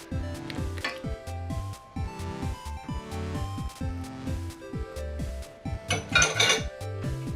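Egg whites are whisked in a glass bowl, giving rapid rhythmic clinks and scrapes of utensil against the bowl that stay close and steady, with a brighter clatter near the end.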